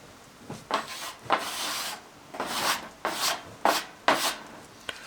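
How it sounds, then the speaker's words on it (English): Knife blade scraping shavings off a piece of fatwood outdoors in a blustery back garden, heard as a series of short rasping strokes, about six or seven, fairly close and alone. "Should be able to get a good throw and get some good shavings off with this one"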